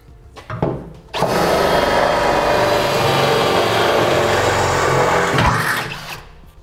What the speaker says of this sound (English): Then we'll drill our final hole size from the top down to the bottom.